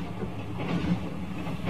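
A night express train rolls along the rails in a Doraemon cartoon, a steady low rumble and hiss, continuous and moderately loud with no voices.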